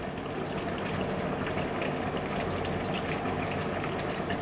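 Chopped onion going into a pot of goat meat rezala, giving a steady, close bubbling and sizzling cooking noise that holds evenly throughout with no talking.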